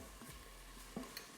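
Onion, garlic, jalapeños and tomato paste fry quietly in a pot, a soft sizzle with a couple of faint stirring scrapes and clinks.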